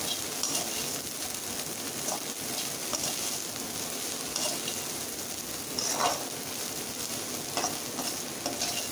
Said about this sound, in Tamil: குட்டி குட்டி நெத்திலி இது, இதை எண்ணெயில் போடணும். அந்த எண்ணெயிலே கொஞ்சம் அந்த பச்சை ஸ்மெல் போகிற அளவுக்கு வதக்கணும்